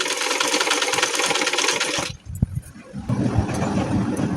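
A domestic sewing machine stitching lace along the shoulder of a Modhubala blouse runs with a loud, steady whirring buzz, stops for about a second with a few small clicks, then starts whirring again.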